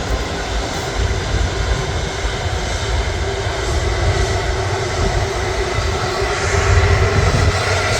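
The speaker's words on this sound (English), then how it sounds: "So as one A330 arrives, one leaves." Airbus A330 jet engines at Manchester Airport give a steady, broad roar that holds throughout and swells a little louder near the end.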